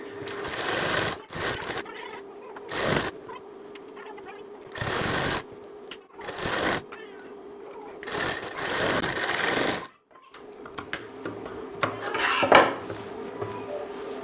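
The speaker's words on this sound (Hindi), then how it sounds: "तो अब मैं इसकी सिलाई लगा के आपके लिए दिखा देती हूँ।" A sewing machine stitches blouse fabric for a bridal prince-cut blouse in several loud bursts of whirring needle action, broken by short pauses and faint clinks of handling.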